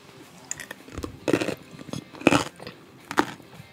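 Mukbang ASMR eating sounds, with close, crisp bites and chewing crunches arriving in several bursts over quiet background.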